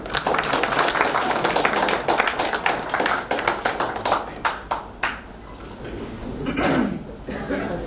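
An audience at a poetry gathering (mushaira) claps to welcome a speaker: dense, loud applause that thins into scattered claps, with a brief swell near the end.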